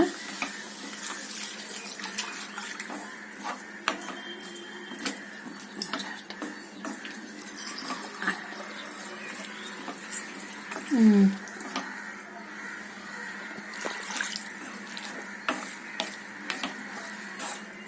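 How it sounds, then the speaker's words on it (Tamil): Water is poured into a pan of spinach stems frying with curry masala and turmeric, a steady running splash with light stirring clatter beneath, close and fairly loud. "வதக்கிட்டு கொஞ்சம் தண்ணி ஊற்றிக்கோங்க."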